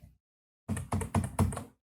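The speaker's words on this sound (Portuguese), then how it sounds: "que são 4 movimentos com Shift mais flechinha do teclado" Four quick, crisp taps of Shift plus arrow keys on a computer keyboard during Adobe Premiere Pro editing, close and evenly spaced, with no other sound.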